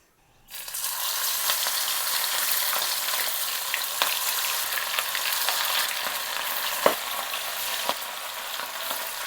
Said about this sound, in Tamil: இந்த வெஜிடபிள் ஃப்ரை பண்ணுறக்கு சன்ஃப்ளவர் எண்ணெய் யூஸ் பண்ணுறேன்.